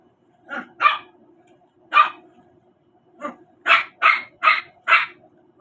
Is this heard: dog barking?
yes